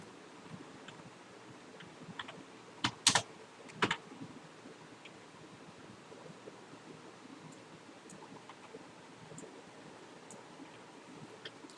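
Faint scattered key taps on a computer keyboard while writing Java code, a few louder clustered clicks early on, over a soft background hiss with no talking.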